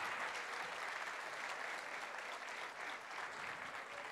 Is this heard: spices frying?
no